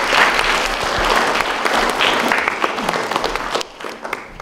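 Warm applause from a church audience at an Advent Sunday celebration in Nagybacon rings out as a dense, lively patter, then tapers off sharply near the end.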